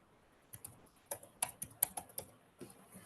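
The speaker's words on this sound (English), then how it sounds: "Where I'm typing." Scattered keystrokes on a computer keyboard, quiet and close, coming in short irregular bursts with brief pauses, no voices.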